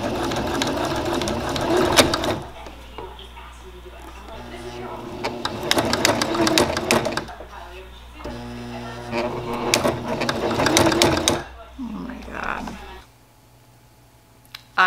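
A knitting machine that keeps jamming, running in repeated rattling, clacking bursts separated by quieter pauses, close by, with a person talking now and then.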